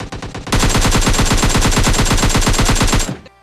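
Sustained automatic gunfire in PUBG Mobile Lite, a loud, rapid burst of evenly spaced shots lasting about two and a half seconds after a few quieter opening rounds, then stopping abruptly.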